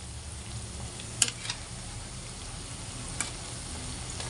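Balushahi frying in hot oil just after being flipped, a quiet, even bubbling sizzle with a couple of faint sharp ticks from the pan.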